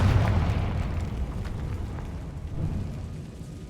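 A Confringo blasting spell explodes in Hogwarts Legacy, a deep rumbling boom that swells loud at the start and rolls on as a sustained low roar, with a second swell near the end.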